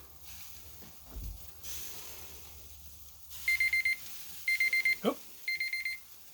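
A digital kitchen timer beeps while frozen Angus patties cook on a grill, sounding three bursts of rapid high-pitched electronic beeps, loud and close, with a brief voiced exclamation between the second and third bursts.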